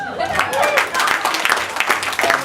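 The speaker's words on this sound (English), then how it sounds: "A round of applause for them, please." Wedding guests clapping during the groom's speech, a lively burst of applause with voices and laughter mixed in, fairly close and sustained.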